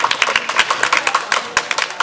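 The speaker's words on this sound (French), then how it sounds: "Alors on applaudit très fort pour elle" An audience applauds loudly at a French youth and culture event, with dense, sustained clapping that runs steadily throughout without pause.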